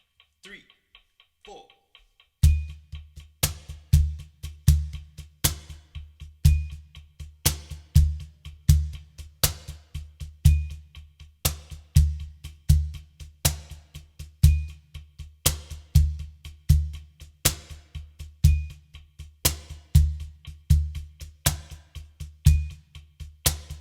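Sharp slaps and deep bass thumps on a cajon repeat in a tight, even groove, a crisp loud pattern that loops for over twenty seconds with no talking over it.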